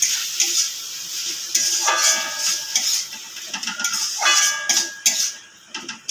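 Sour yogurt is stir-fried with spices in a pan for a prawn malai curry made without garlic or onion, with repeated spatula scrapes and stirring strokes over a soft sizzle.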